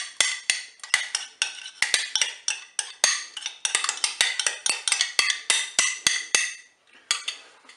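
A spoon stirs saffron into crème fraîche in a bowl, with rapid, regular clinks and scrapes against the sides repeating steadily for several seconds before a brief pause.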